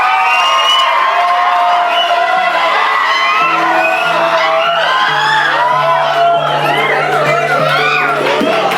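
A large crowd at a film festival awards ceremony in Hyderabad cheers, whoops and shouts loudly and continuously, with a sustained roar of many voices close around.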